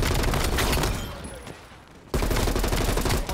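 Rapid automatic gunfire in Black Ops Cold War, with the QBZ-83 rifle in play, rattles in dense bursts, fades into a short lull, then bursts back in abruptly and loud.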